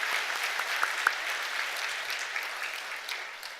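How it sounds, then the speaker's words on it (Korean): A church congregation applauds during a Sunday worship service, steady sustained clapping from many hands filling the room for several seconds at moderate loudness, with no speech over it. "다시 한번 우리 받으신 분을 위해서 박수로 축하해요."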